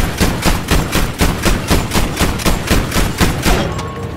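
Rapid, evenly spaced bursts of loud gunfire ring out in a Battlefield V battle, a steady automatic rhythm of about three shots per second that runs throughout, close and dominant with no voices over it.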